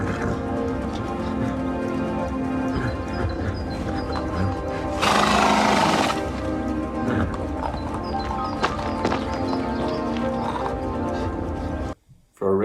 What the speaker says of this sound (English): when Ricky encounters this horse and doesn't know what to do about it